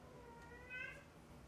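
A house cat gives a single short, faint meow in a quiet room near a pet ball python, alone without talk.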